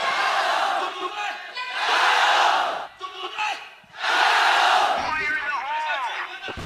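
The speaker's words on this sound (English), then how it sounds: "The crowd are getting behind Vici here." A loud esports arena crowd roars and chants in waves during a Counter-Strike grand final, cheering for Vici Gaming against FlipSid3 Tactics, with brief lulls between swells and one voice calling out near the end.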